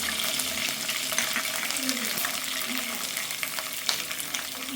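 Mustard seeds, curry leaves and green chili sizzle in hot oil, a dense close crackle with watery splashy hiss and a few clinks, steady throughout.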